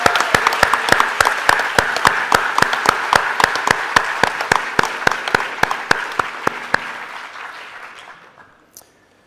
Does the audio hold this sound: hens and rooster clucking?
no